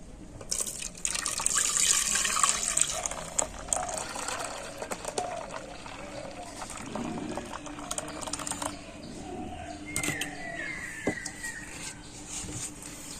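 Reddish water is poured off settled raw potato starch, producing a close, continuous trickle and splash of liquid with some faint clatter of the container, and no talking.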